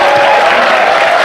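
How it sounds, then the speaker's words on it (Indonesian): Audience at a religious gathering clapping together, a short dense burst of applause lasting just over a second with no talking. "Ngono ya tepuk tangan."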